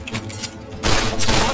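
A short burst of rapid gunfire rings out in the video game Fallout 3, loud and clattering, with a denser volley in the second half.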